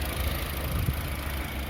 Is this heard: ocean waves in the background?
no